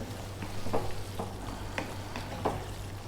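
A spoon stirs lamb curry with fresh mint in a pan, a soft thick bubbling under a low steady hum, with several dull scraping strokes spaced through the few seconds, no voices.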